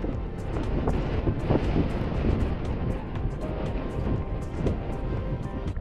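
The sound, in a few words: wind on a winter mountain summit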